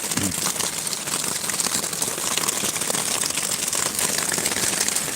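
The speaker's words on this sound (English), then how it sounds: "definitely not snow, it's hail." Hail falling steadily onto the ground outdoors, a dense, continuous crackling patter of small impacts that stays loud and even throughout with no pauses.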